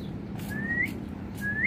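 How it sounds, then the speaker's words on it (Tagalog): A bird chirps twice outdoors, each call a thin rising whistle-like note, fairly faint over a low background hum, with a pause between the two calls. "Narinig mo yung sisiyo."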